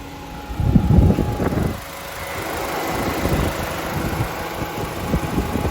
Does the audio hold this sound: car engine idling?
yes